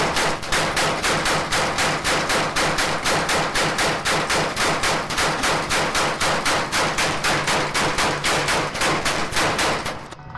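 A Gatling gun fires in one long, sustained burst of rapid, evenly spaced loud shots, close and continuous for about ten seconds, cutting off at the very end with no voices over it.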